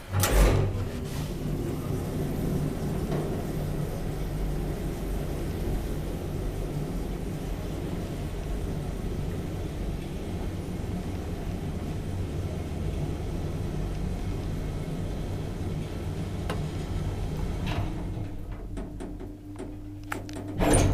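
An old Kone traction elevator in Lahti running with a continuous low mechanical hum and rumble, doors sliding with a clunk near the end, all close by and steady.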